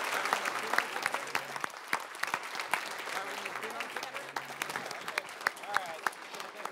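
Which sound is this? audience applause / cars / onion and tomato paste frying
audience applause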